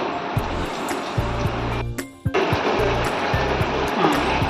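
Water poured into a pan of Bengali katla kalia fish curry makes a steady, close rushing stream that breaks off briefly midway and then resumes, with low tonal background sounds underneath.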